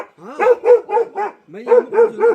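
A frightened dog at a house in a hill village barks sharply and close, two quick bursts of about four barks each, clear and alone.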